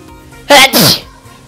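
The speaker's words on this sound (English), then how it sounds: "Let me sneeze. Gotta sneeze." A single loud, close sneeze: a sharp inhaled catch followed by a forceful burst, against a quiet background.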